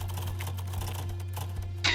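Rapid keyboard typing during a typing test, a quick close patter of keystrokes over a steady low hum, with no speech.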